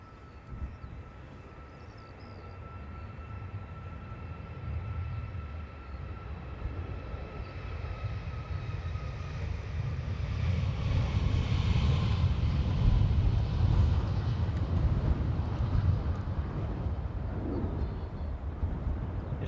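A Ryanair Boeing 737 departs Dublin Airport for Lanzarote, a broad engine roar swelling steadily to a loud sustained peak and holding there, with a faint whine above it and no voices.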